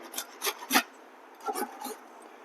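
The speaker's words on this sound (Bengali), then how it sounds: "যেহেতু বীজগুলো একটু শক্ত তাই ঘষাটা একটু কঠিন তাই একটু সময় নিয়ে ধীরে ধীরে ঘষতে হবে" Hard jackfruit seeds rasped one at a time across a kitchen slicer, giving short gritty scraping strokes in two close bursts: three quick strokes, a pause, then three more.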